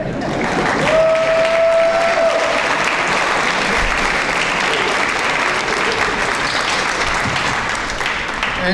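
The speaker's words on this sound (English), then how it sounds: "I want the students to clap for their families that supported them." Students at an honor band concert clapping for their families, a loud, dense and continuous round of applause from a large audience, with a brief whistle early on and no talking over it.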